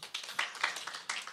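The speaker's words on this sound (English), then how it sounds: "Let's give them round of applause" Brief scattered clapping from a church audience, a handful of distinct claps in an uneven rhythm, fairly faint and close.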